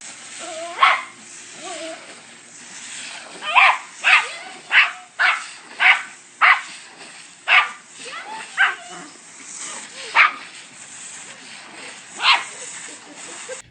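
Dogs give a string of sharp barks spaced a second or so apart, with softer whimpering between them, moderately close against a quiet background.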